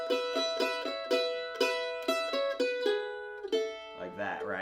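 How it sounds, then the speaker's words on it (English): Mandolin picking a bluegrass melody from a beginner arrangement of Hallelujah Side, with a sustained high E drone string ringing under the notes; quick, bright plucks in steady rhythm, close and clear, ending in a brief noisy strum. "you could drone with the high E as well if you wanted to."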